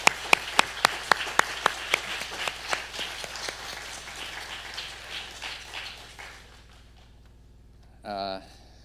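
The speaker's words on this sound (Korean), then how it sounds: "큰 박수로 우리 축하드렸으면 좋겠습니다" A church congregation claps to congratulate newly elected elders at a Sunday service. Sharp, separate claps open the clip and thicken into a softening patter that fades away, followed by a brief rustle near the end.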